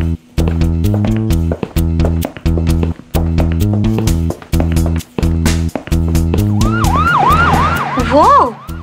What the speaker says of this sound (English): Hi, I am an ambulance. I carry sick people to the hospital